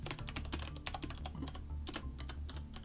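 Steady, quick clatter of keys on a computer keyboard, a close run of irregular clicks and taps at low level with no voices.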